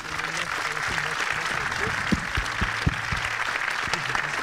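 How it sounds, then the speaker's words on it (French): A crowd at a Yuri's Night space celebration applauds steadily with dense, even clapping, while low voices murmur and talk beneath it. "Je vous propose de l'applaudir à nouveau"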